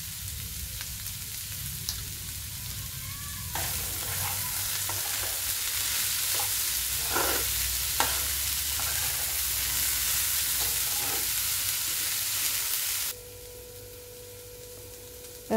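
Taro stalks sizzling in a hot frying pan while being stirred, a dense steady hiss with scraping spatula strokes over it, close and continuous, the sizzle dropping away abruptly near the end.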